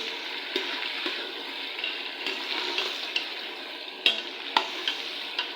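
Chicken frying with onions in a pan gives a dense, steady close sizzle with a few sharp spoon scrapes and taps, most noticeable toward the end, and no voices.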